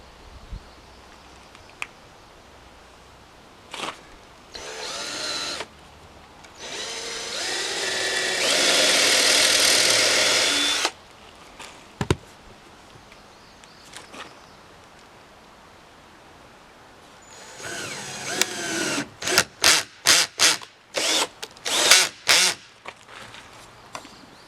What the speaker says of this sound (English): So I'll get a drill and a countersink here.